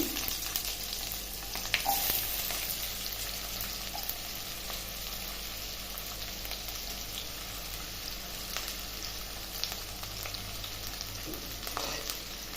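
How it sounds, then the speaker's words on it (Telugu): Chopped onions fry in hot oil for a rajma curry, a dense, continuous crackling sizzle with occasional louder pops and light stirring clatter, steady from start to finish. "ఇప్పుడు నూనె వేడెక్కిందండి తరిగి పెట్టుకున్న ఉల్లిపాయ ముక్కలు"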